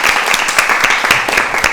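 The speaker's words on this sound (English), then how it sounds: "now let's give her a round of applause" A live podcast audience gives a loud, dense round of applause for a performer named Molly, many hands clapping rapidly and continuously close by with no talk over it.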